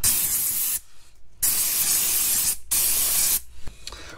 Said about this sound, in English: Then get some air duster in a can, and spray it all out.